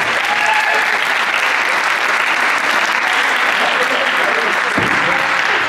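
Loud, close audience applause at a high school post prom event, many hands clapping in a dense continuous roar, with a low thump near the end.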